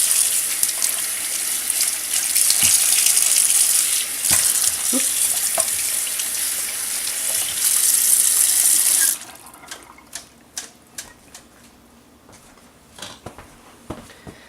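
Tap water runs steadily into a kitchen sink while potatoes, green beans and corn are rinsed, a full gushing stream for about nine seconds before it stops, leaving scattered faint clinks and drips.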